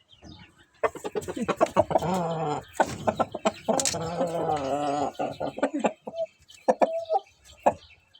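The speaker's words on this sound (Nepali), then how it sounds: "अन्डा पार्नेवाला लोकल कुखुरा चाहिँ यहाँ छ है साथीहरू" Local egg-laying hens cluck close by in quick, uneven bursts, several birds overlapping with short gaps between calls.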